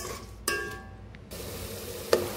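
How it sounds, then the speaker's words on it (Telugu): A spoon stirs a spiced, meatless Tamil Nadu kushka rice mixture in a pan, giving soft scraping and a light sizzle, with a couple of sharper scrapes against the metal. "ఇప్పుడు ఏం చేద్దామంటే మంచిగా మిక్స్ చేసుకుందాం"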